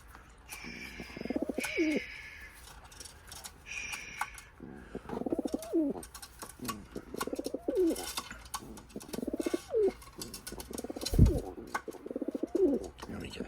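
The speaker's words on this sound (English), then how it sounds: "Ooh, a healthy pigeon." A healthy pigeon coos repeatedly up close, its low rolling calls recurring every couple of seconds, with faint chirps and rustling around it.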